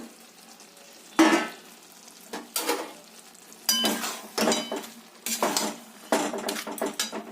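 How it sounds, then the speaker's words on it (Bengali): Fish heads are dropped one after another into a hot pan of oil for muri ghonto. Each drop brings a sharp burst of sizzling and spattering, with clanks from the pan, about six bursts in a row separated by brief quieter gaps. "চলো এবার এর মধ্যে মাছের মুড়োগুলো দিয়ে দেবো"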